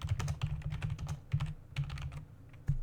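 Fingers type text on a computer keyboard into a Jupyter notebook, a quick, uneven patter of close key clicks with a few louder taps and short gaps.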